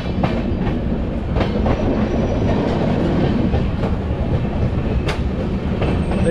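Himsagar Express running through Rohtak Junction in India: steady loud rumble of rail wagons with repeated clickety-clack wheel beats over the track, continuous and close, without voices.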